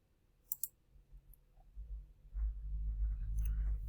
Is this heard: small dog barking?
no